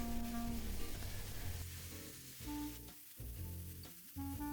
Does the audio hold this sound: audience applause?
no